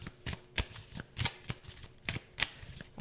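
Tarot cards are shuffled by hand, giving a run of crisp riffling bursts and soft slaps in an irregular rhythm, close and fairly quiet, with no talking.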